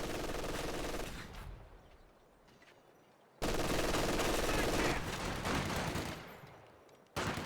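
Machine gun fire in a strategy game: a dense burst of automatic fire for about a second, a quieter lull, then a long loud sustained burst for several seconds and a fresh burst at the end.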